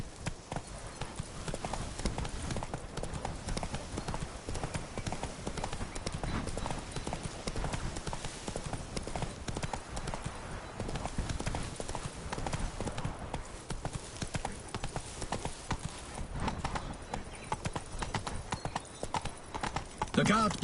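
Horse hooves trot in a steady clip-clop rhythm throughout in The Witcher 3: Blood and Wine, moderately loud, with talking over them.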